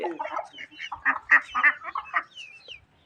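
Ducks and bantam and desi hens in a bird-keeping yard call in a busy run of quacks and clucks, several birds overlapping at close range before trailing off.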